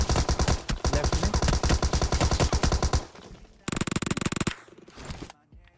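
Tommy gun fire in a Free Fire-style battle royale, loud rapid automatic bursts rattling continuously for three seconds, a short pause, then another fast burst before fading out.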